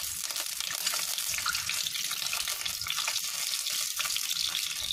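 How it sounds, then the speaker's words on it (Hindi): Eggs frying in hot oil in a pan over a medium gas flame, giving a loud, steady, dense crackling hiss that fills the whole stretch without pause. "मैंने डाल दिए हैं यहाँ पे अंडे को और इसे हम फ्राई कर लेते हैं।"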